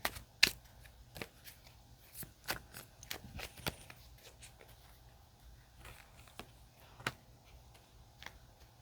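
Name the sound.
shuffling tarot cards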